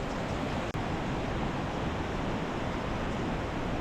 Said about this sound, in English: You can hear the thunderous power of the waterfall